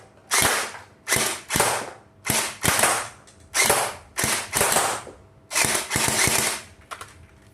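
A Sheng Ye HK416 gel blaster, converted to an AEG, fires BBs in about ten short automatic bursts, each a close, sharp mechanical rattle separated by brief pauses, with no talking.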